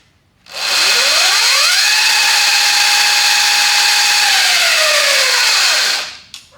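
A Sur-Ron 72-volt, 14.5-kilowatt electric bike with chain drive at full throttle, a loud rising motor whine that climbs in pitch, holds a steady high tone for several seconds and then falls away as the bike passes.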